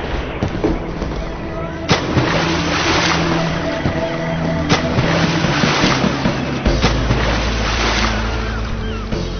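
Sea waves and a boat churning through water in an Arabic radio drama, a continuous dense wash of surf and engine-like rumble with sharp splash bursts, loud and close, no voices over it.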